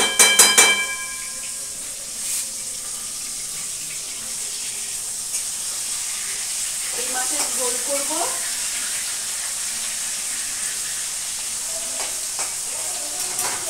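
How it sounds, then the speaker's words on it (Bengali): Fish sizzling as it fries in oil in a pan for a Bengali fish curry, a steady soft hiss running throughout, with a person talking briefly over it. "এই মাছটাকে এবার ভেজে নেব"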